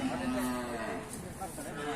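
Cattle moo in a Thai livestock market setting, a sustained low lowing call over a busy background, with people talking nearby.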